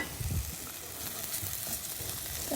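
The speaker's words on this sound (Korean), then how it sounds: "그래서 양파를 먼저 볶을게요." Onions sizzle as they are stir-fried in a pan, a soft, steady frying hiss with a few louder scrapes of stirring near the start.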